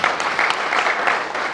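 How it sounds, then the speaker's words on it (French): Applause at the official launch of an accountants' club in Senegal, a brief steady patter of many hands clapping in a hall. "sur vos applaudissements bien sûr"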